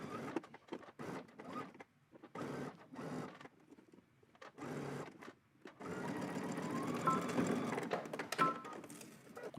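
A sewing machine stitches a seam from top to bottom with a 3/8 inch seam allowance, starting in short stop-and-go bursts and then running steadily and close for the last few seconds.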